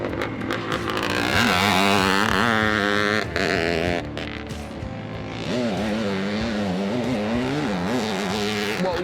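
A Cyclone dirt bike engine, nicknamed the Orange Terror, runs loud and close. Its buzzing note rises and falls through several revs, then settles into a wavering idle.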